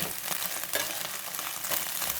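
Vegetables fry in a pan for chow mein, a soft, continuous sizzle with a few brief louder crackling bursts, heard alone.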